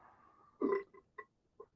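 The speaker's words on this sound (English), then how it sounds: "my son just burped" A child burps once, loud and close, then gives two or three smaller hiccup-like burps, over a quiet room.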